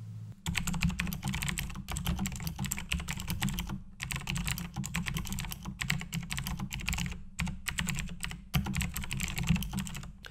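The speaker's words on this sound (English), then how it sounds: "they do fall under the clicky bracket of mechanical switches, and as you can hear, they are rather loud" Rapid, loud clicky typing on a Razer BlackWidow Chroma mechanical keyboard with clicky switches, continuous and close up, with brief pauses between bursts of keystrokes.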